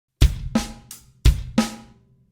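Drum kit playing beat 1 of a paradiddle groove, with a single paradiddle split between the hands and bass drum hits on the downbeat and the after-1, five or so crisp close strokes at a steady pulse, with no talking.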